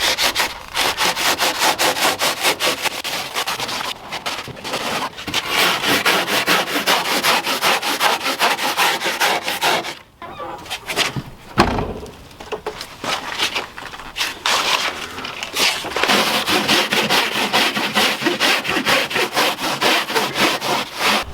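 Fiberglass bumper being cut and smoothed on a Bosozoku bumper delete: loud, continuous rasping and grinding strokes close by, with a brief pause near the middle before the abrasive scraping resumes at full strength.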